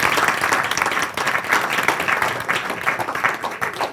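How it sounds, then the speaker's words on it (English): An audience at a panel discussion gives a man a big round of applause, a full, continuous patter of many hands that stays steady, dipping slightly midway. "Give him a big round of applause"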